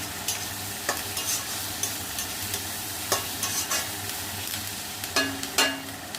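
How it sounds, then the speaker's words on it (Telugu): Chana frying with curry leaves and green chillies in hot oil, a continuous crackling sizzle broken by several sharp clacks of a spoon stirring against the pan, close and with no talking. "మంచి గోల్డ్ కలర్ వచ్చే వరకు వేయించుకొని అందులో కరివేపాకు అండ్ పచ్చిమిర్చి కలుపుకోవాలి"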